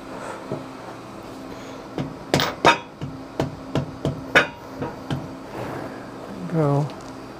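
A shop-made steel slot block is tapped into place on a CNC machine in a home shop: a series of sharp metallic knocks in an uneven rhythm, close by, with someone talking in between.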